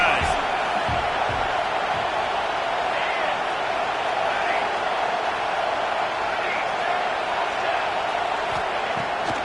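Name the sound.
stadium crowd noise in NCAA 26 football video game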